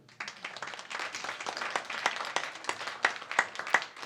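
A church congregation breaks into applause, a dense burst of many hands clapping that carries on steadily for several seconds at moderate loudness.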